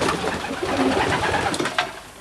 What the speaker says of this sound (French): Vous voyez, beaucoup de beaux pigeons.